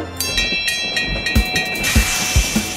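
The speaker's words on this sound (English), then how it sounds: "A train is coming in, blinking, blinking." A cartoon train arriving in a kids' pretend-play animation, with rhythmic clacking thumps and bright repeated chime-like tones, moderately loud and without talk.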